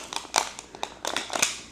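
A zipper tab pulled off a plastic MiniVerse package wrapper, giving a quick series of close, crisp ripping bursts over under two seconds.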